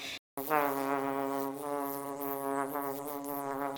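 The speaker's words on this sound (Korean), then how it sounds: "코스튬 착용 시 붕붕거리는 소리가 나는 디테일도 챙겼습니다" A bee costume from the mobile game Guardian Tales gives off a steady, bright, nasal electronic buzz, close and loud, sounding for about three seconds after a brief silent gap.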